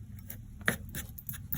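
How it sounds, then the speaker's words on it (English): Scissors snipping around intricate paper florals for a collage journal, a handful of soft, close, crisp cuts spaced irregularly over a quiet background. "sometimes it's a little bit easier if you use your scissors for that"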